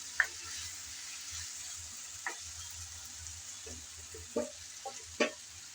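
Tomatoes frying in a pan for a mash, with quiet steady sizzle underneath and a few scattered scrapes and clinks as they are stirred now and then.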